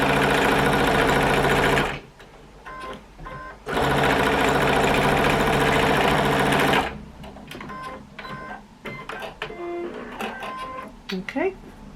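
A sewing machine stitches a country log cabin quilt block in two loud, steady runs of rapid needle clatter up close, followed by quieter handling sounds and soft clicks.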